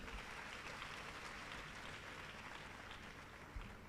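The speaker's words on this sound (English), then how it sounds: "Give your president another round of applause." Steady applause from an audience at a university matriculation and welcome ceremony, a continuous even patter of many hands clapping, heard faint and from a distance without voices on top.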